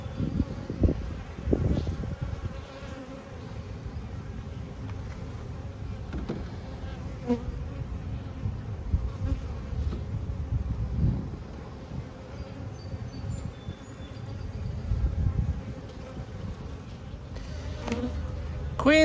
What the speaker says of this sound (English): they are bees. There's brood up here.